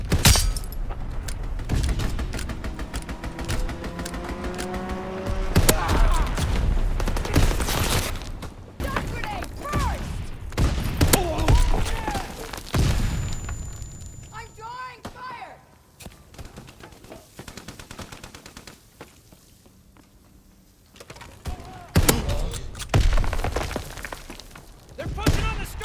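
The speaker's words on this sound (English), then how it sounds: "Call for a strafing run." Machine-gun fire from an aircraft strafing run in Call of Duty WWII rattles in dense bursts with thuds and booms, loud and sustained, trailing off before a final flurry, with game voice announcements heard among the shooting.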